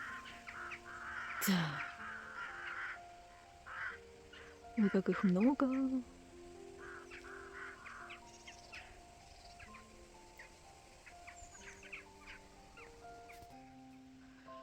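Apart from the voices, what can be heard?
flock of birds (crows) calling while flying south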